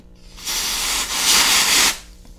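A spray can hisses onto the heated finish of an Epiphone Les Paul guitar in two close, loud bursts of about half a second and nearly a second, with quiet before and after.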